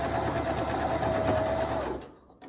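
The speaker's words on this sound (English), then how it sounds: "we're gonna close this up, and we're gonna straight stitch it again" Close sewing machine running a continuous straight stitch on a medical mask, a steady whirring motor hum that stops abruptly about two seconds in, followed by a faint click.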